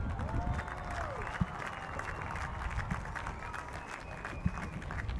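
A large crowd applauds at a 2022 Navy Day celebration in Vizag. Sustained clapping and crowd noise wash evenly through the whole stretch, with a few faint tones and voices mixed in.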